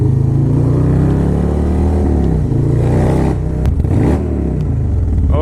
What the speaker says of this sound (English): a high performance exhaust like this one